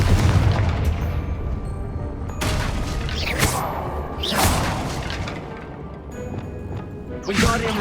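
Blasting spells explode repeatedly in the Hogwarts Legacy video game, a series of loud booming crashes at uneven intervals with sharp bursts of debris over a continuous rumbling bed.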